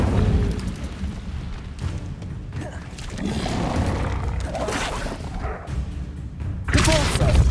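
Incendio fire spell cast in Hogwarts Legacy, heard as a rumbling burst of magical fire with booming thuds over ongoing game sounds, ending in a sharper loud flare near the close.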